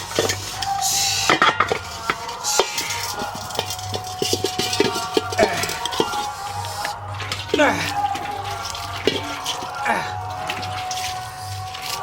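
Metal pots and utensils clink and clatter repeatedly at close range in a household setting with water nearby, in irregular bursts under ongoing talking voices.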